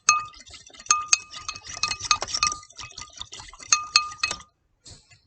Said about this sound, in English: And now just stir in your mustard with your fork or your whisk.